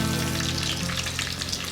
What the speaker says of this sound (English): Now while the second batch is frying,